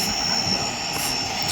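Jet aircraft engine in a Roblox flying game, a steady loud roaring drone with a high whine that stays even throughout.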